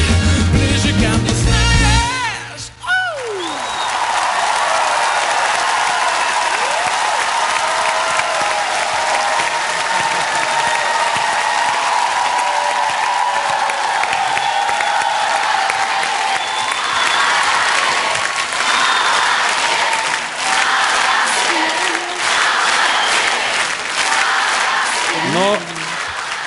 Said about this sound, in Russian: Публика вот хлопала вот на все четыре.